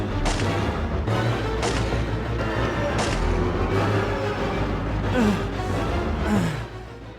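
Gunfire aimed at a zombie in the 1999 game Resident Evil 3: Nemesis, a few heavy booming shots spread over a continuous loud rumbling backdrop, with no one speaking.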